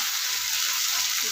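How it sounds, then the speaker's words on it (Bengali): Fish curry with ground chilli and cumin paste sautéing in a pan, a steady close hiss of frying oil without breaks, fairly loud and with no voices. "একটু কষাবো।"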